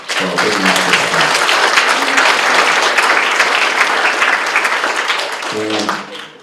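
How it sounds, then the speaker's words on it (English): An audience at an annual meeting breaks into a sustained round of applause, dense and loud, with a voice speaking briefly at the start and again as the clapping fades out. "So a big round of applause to all of you."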